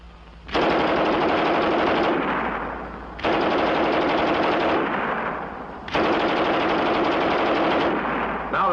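A German WWII MG 34 machine gun fires three long sustained bursts, a loud continuous rapid rattle of shots with brief pauses between bursts, heard at close range in the open.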